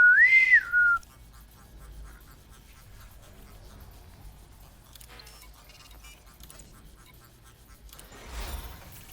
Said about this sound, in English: It makes like a little whistle whenever you call it back.